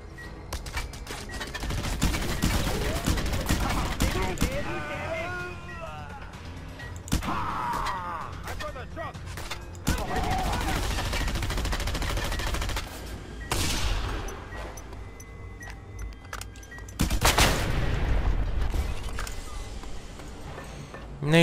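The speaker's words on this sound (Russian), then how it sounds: "О, пулемет." Machine-gun fire in the video game Just Cause 2 comes in sharp bursts and volleys scattered through the stretch, loud against a quieter game background with occasional impacts.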